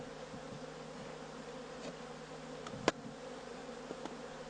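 Bees buzz in a continuous faint drone at a hive as they work to seal a hole with green propolis, with a few sharper passing buzzes and a soft knock.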